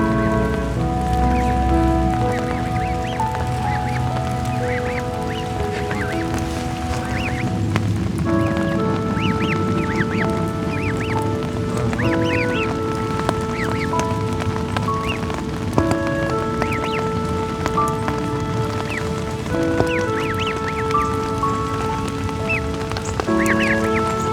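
A goose calls repeatedly in steady rain, loud honking tones rising and falling over continuous rain hiss for the whole stretch, with no one speaking.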